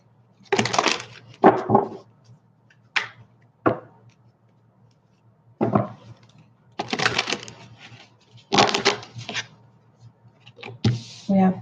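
Tarot cards are shuffled in quick bursts of riffling and slapping clatter, several close, crisp bouts separated by brief pauses over a low steady hum.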